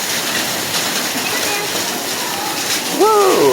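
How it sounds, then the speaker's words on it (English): Hailstorm with heavy wind and rain in Delhi, a dense, steady roar of hail and rain pelting surfaces, loud and continuous throughout, with a voice breaking in over it near the end. "Look at the hailstorm."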